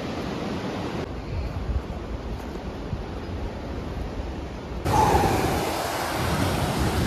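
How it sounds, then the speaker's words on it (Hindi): Strong, steady rushing of the Pindar river in full flow on a mountain trek, a continuous broadband roar up close that swells louder partway through, with no voices. "नदी का फ्लो देख लो कितना ज्यादा है"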